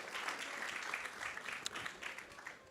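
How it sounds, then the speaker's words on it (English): A crowd of devotees claps steadily after a Krishna Katha discourse, a soft, dense patter of many hands that holds even throughout without any single standout claps. "So let's give them a big round of applause."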